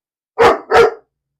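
A pet dog indoors in a home kitchen gives two loud, close barks in quick succession, then falls silent.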